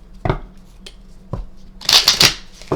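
Tarot cards are shuffled nearby: a few soft taps and handling sounds, then a quick riffling flutter of cards near the end.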